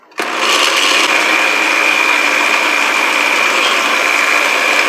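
An electric mixer whirs on loud and close, blending a seasoning mixture with white pepper for a smoked turkey wing stew, holding a steady high motor drone from start to finish.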